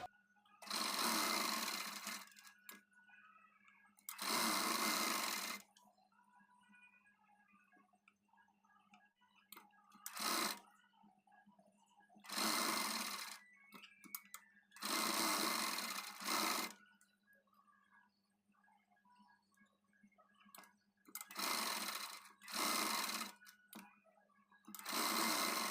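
Sewing machine stitching a latkan tassel for a party-wear saree blouse, running in repeated loud bursts of rapid stitching separated by short quiet pauses.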